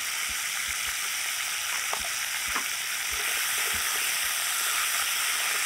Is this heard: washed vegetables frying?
yes